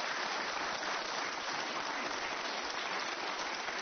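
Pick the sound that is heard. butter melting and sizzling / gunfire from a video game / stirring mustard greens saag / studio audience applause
studio audience applause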